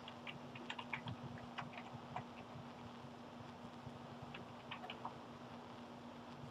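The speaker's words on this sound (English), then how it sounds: "Upon typing in the address" Typing an IP address on a Mac keyboard during printer driver setup: soft, irregular key clicks with a steady background hum, fairly faint and without speech.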